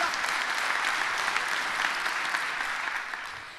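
A hackathon audience at the DSAG Technologietage 2023 applauds a team with steady, dense clapping that holds for several seconds and eases off slightly at the end.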